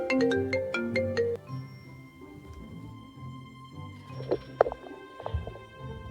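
A mobile phone ringtone for an incoming call plays a bright repeating melodic tone at the start, then a quieter sustained tone with some clicks and handling sounds from the phone.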